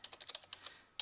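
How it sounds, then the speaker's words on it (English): Rapid keystrokes on a computer keyboard while composing an email in Microsoft Outlook, a quick uneven run of light clicks followed by a brief pause and one final louder tap, close and alone. "the idea here is you would type what you wanted to say"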